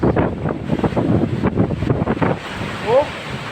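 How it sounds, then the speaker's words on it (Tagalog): Strong wind from Typhoon Nika buffets the microphone in rough, gusty roars during the storm in Abra, with a voice speaking briefly over it. "Lakas-lakas ng hangin, oh."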